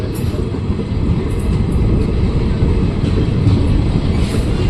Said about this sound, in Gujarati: આપણે ચિત્તલ રેલવે સ્ટેશને ટ્રેન ઉપડી ગઈ